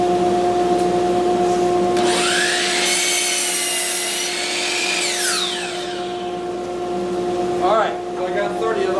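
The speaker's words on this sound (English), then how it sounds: "we've been doing a lot of chop sawing" Chop saw cutting pine boards while milling parts for tongue and groove cabinet doors, a loud whining cut lasting a few seconds that spins down, over a steady machine hum in the shop.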